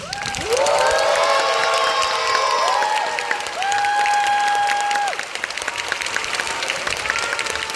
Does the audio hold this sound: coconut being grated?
no